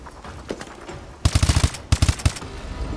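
Two loud, close bursts of automatic gunfire in a futuristic military shooter campaign, each a rapid string of sharp shots separated by a short pause, with faint scattered shots before.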